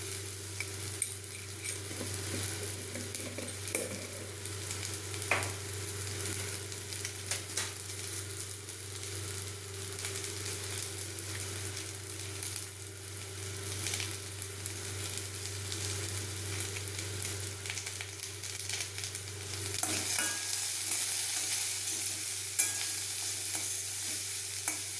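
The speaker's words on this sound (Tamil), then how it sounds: "கடுகு, கருவேப்பிலை, வெங்காயம் எல்லாம் போட்டு தாளிச்சுங்க." Mustard seeds, curry leaves and onion sizzle steadily in hot oil during a tempering for a vegetable stir-fry, with occasional spoon stirring and a constant close crackle, no talk.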